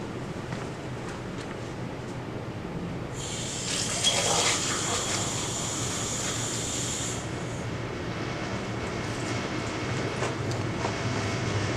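About 40 millilitres of water poured into a glass for a second dilution, a loud gushing stream lasting around four seconds over a steady background rumble.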